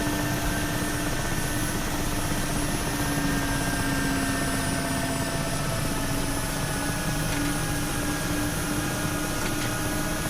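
A Mi-8 helicopter in the DCS flight simulator drones steadily through its rotor and turbine noise, loud and constant throughout with no speech.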